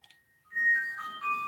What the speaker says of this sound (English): Ooh, text message.